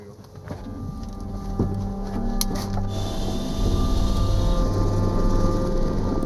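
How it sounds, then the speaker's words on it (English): A helicopter cruising above the Zambezi River gives a continuous droning whir of rotor and turbine, growing slightly louder midway, with faint clicks and rattles inside the cabin and no speech. "Never pass up an opportunity to ride in a helicopter. Especially if you're given a chance to fly over the Zambezi River."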